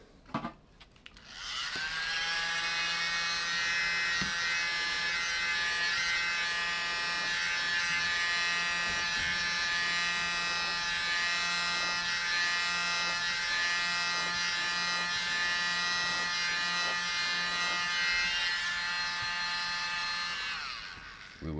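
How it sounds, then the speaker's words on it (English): A small electric mini blower starts up and runs steadily with a high, whirring motor whine, loud and close, holding an even pitch for about twenty seconds before switching off. "Grab the little mini blower."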